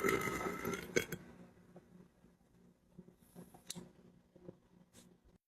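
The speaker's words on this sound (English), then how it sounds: "I can't burp that deep." A woman burps close to the mic: one rough, low belch at the start fades out, followed by quiet mouth clicks and small sounds in a still room.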